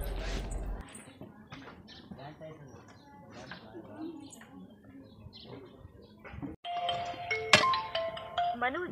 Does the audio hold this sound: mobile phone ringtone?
yes